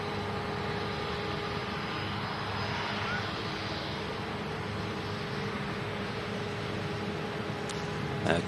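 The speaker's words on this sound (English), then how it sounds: "Qatar departing Manchester on the return leg to Doha." Qatar Airways Airbus A350 departing Manchester Airport under a low cloud base, a steady distant jet roar that holds evenly throughout, with no talk over it.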